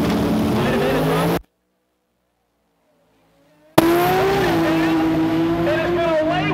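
Street cars, including a Nissan 240SX, roar loudly at a drag racing event in Bradenton, Florida; a sustained engine drone cuts off abruptly, then returns with a sharp burst and a steady high whine, with an announcer talking over it.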